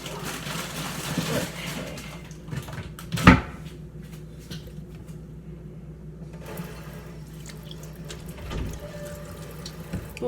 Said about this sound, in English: Okay, so I washed my hands.